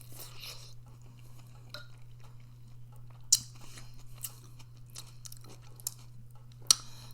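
Someone eating Mexican sausage and vegetable soup with vermicelli, producing soft, close chewing and wet mouth sounds with a few sharper bites scattered through, over a low steady hum.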